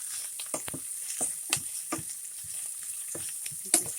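Onions frying in a pan, a constant bright sizzle with intermittent stirring scrapes and a few sharper pops, close and steady throughout.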